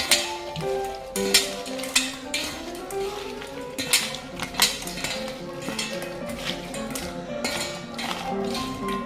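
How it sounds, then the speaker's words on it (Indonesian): Food being stirred in a pan during home cooking, with clinking utensil-on-pan scrapes and taps recurring in an irregular rhythm over a steady low sizzle, close and clear with no talking. "Lalu kita aduk-aduk."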